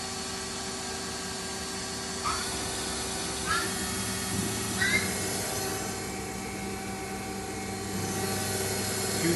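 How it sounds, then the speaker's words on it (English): A 1999 Mazak Quick Turn 250 CNC lathe runs its spindle at 500 RPM. A steady machine hum and drone continues throughout, with a few faint high squeaks rising above it. "Spindle's currently running at 500 RPM"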